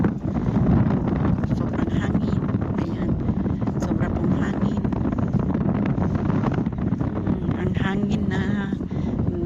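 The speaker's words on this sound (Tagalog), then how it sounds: "mahangin na ang dalay buhangin" Strong, steady sand-carrying wind buffets the microphone throughout beside a road, a constant rushing roar with faint voices underneath.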